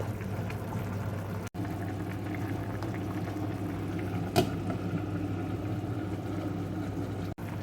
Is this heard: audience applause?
no